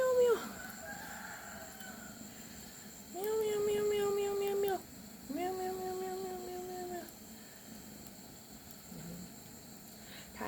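A cat meowing several times nearby, drawn-out calls separated by pauses, heard in a quiet home in the early morning while rice is being steamed.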